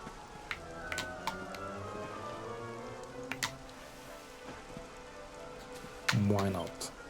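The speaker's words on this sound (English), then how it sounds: "Walking along this ledge in the rain." Rain falls steadily in Dragon Quest XI S: Definitive Edition while a character walks along a cliff ledge, a constant hiss under game music and speech, with a few sharper clicks and a louder burst near the end.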